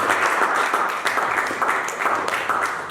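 A church congregation claps and cheers in praise, steady dense applause filling the room without a break.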